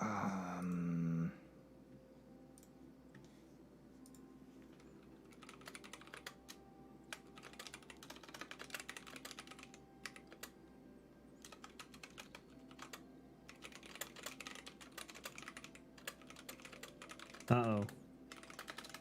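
Rapid, steady keyboard typing carries on for most of the stretch, close and busy, with a short spoken exclamation at the start and a brief voice near the end.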